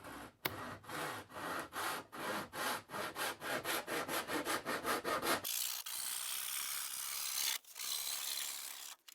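Hand saw cutting a thin 1/8 inch fiberboard sheet, with about twenty quick, even rasping back-and-forth strokes close up, then a rougher scraping stretch as the cut finishes. No one speaks.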